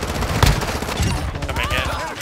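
Gunfire in a shooter video game, a dense burst of rapid shots with a sharp peak near the start, then continuing shots and game noise for a couple of seconds.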